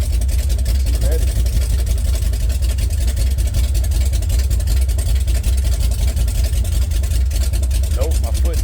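A Chevy 454 big-block engine running steadily after its first start, a loud continuous low rumble throughout with brief chirps near the start and end.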